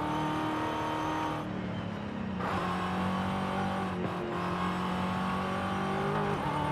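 Chevrolet Camaro engine in the racing game Forza Horizon 5, a steady loud drone with shifting harmonic tones as the car revs and drives continuously throughout, with no talking.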